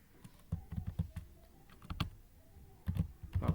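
Typing on a computer keyboard during spreadsheet work, with close, quiet clusters of key clicks coming in short bursts, a brief lull, then a faster run of strokes at the end.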